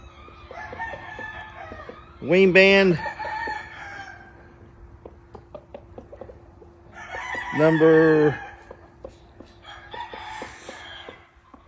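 A black Asil rooster crows twice, loud and close, with a long pause between the calls, while someone speaks briefly in between and soft clucks and clicks sound in the background.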